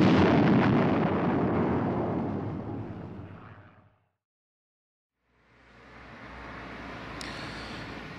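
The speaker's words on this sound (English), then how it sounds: "And then comes the explosion." A German bomber's crash explosion at a Kent farm in 1940, heard as a loud, sustained roaring blast that fades into silence, then rumbling debris and echoes rise again.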